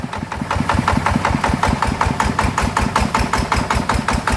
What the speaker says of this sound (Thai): เดี๋ยวลองเทกำลังนะครับเร่งแค่นี้นะครับ